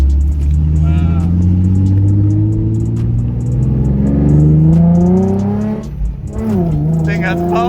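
A Nissan 350Z with a P0300 misfire code revs hard while driving, close and loud. Its engine note climbs through the gears, dips briefly near the end, then pulls up again.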